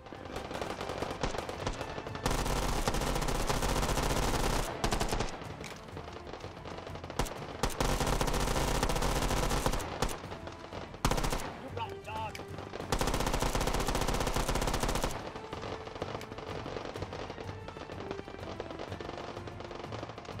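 Two Mac 11 lookalike guns fired together in the Hot Dogs, Horseshoes & Hand Grenades VR game, loud rapid automatic bursts in several long stretches with pauses and brief voices in between.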